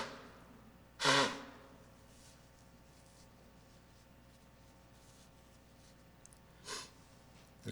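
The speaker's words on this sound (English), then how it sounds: "I need to blow my nose." One short, loud nose blow breaks a quiet room, followed several seconds later by a fainter sniff or blow.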